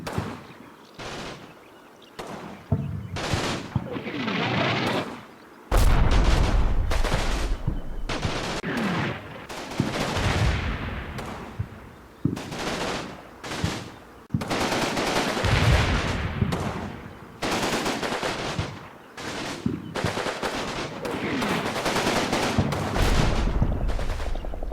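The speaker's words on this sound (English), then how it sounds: "the machine gun fire from several other positions, combined with the mortar fire, stops the British infantry attack" Machine gun and mortar fire in the Combat Mission Normandy wargame, against British infantry: repeated loud bursts of automatic fire and heavy booming impacts in irregular volleys, with short gaps between them.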